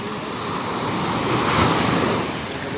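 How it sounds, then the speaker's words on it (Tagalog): Loud, steady roar of ocean surf with a wave swelling and crashing midway, wind rushing across the microphone throughout. "Parang malaki ang nalaki alon no."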